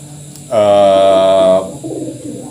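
A pigeon gives one loud, sustained coo close by, a rich buzzing tone lasting about a second, followed by softer mumbled sounds.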